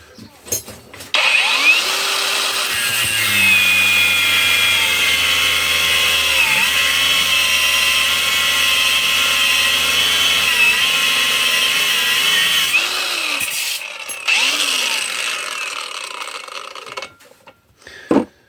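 A Razor angle grinder whines loudly at close range while cutting 12 mm steel rebar. Its pitch dips under load during the cut, then it spins down and stops with a few clicks.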